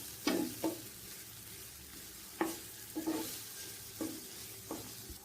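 Green chillies fry gently in a pan over a low flame, with soft sizzling and a few scattered scraping stirs and clinks of a utensil against the pan, quiet and close.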